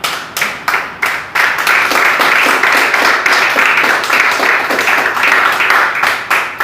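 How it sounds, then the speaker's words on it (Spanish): A church congregation claps, starting with several distinct, loud rhythmic claps that quickly swell into dense, continuous applause filling the room. "¿Quién le da un aplauso al Señor?"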